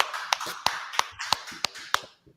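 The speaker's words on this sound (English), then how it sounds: "Clap it up." A handful of people at a scripture class clap together in an even beat of six or seven sharp, close claps, each one crisp and separate, before the sound fades out.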